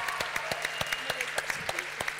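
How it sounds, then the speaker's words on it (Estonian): Audience applause at a televised Estonian finals competition, steady dense clapping with sharp individual claps standing out, moderately loud and continuous throughout. "Teeme neile veel ühe suure aplausi."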